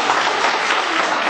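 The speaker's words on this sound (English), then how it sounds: "Round of applause." Audience applause following a spoken word poetry performance, a dense, steady wash of clapping from the crowd, loud and close for its brief duration.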